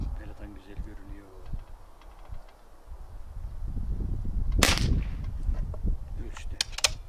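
A Niksan Serpent-S .177 CO2 air pistol fires once at a 15-metre target, a sharp close crack amid low handling noise, followed by a few faint metallic ticks; a voice is heard.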